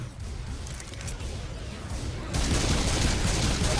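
Dense, rapid gunfire from the video game Left 4 Dead 2, a continuous rattling barrage that grows noticeably louder and fuller halfway through.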